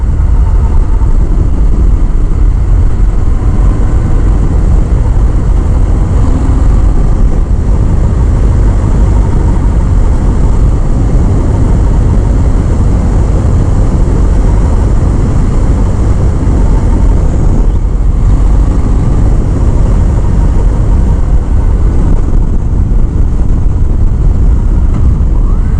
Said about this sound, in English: It has the classic Harley sound and immediate throttle response as soon as you hit the throttle, immediately.